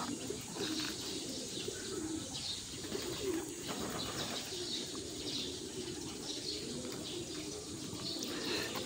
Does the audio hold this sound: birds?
yes